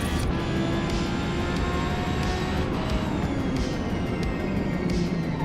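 A race car engine drones loud and steady under throttle in Forza Motorsport, a continuous close roar with faint rhythmic pulses riding on top, and no voices.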